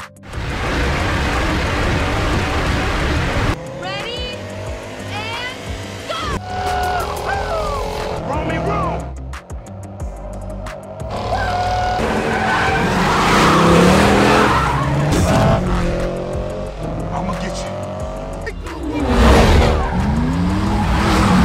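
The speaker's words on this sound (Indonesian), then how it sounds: "setelah mendengar geberan mobil otot Amerika ini" Loud, powerful car engine roaring and revving throughout, with tires squealing and skidding, rising and falling pitch, busy and continuous.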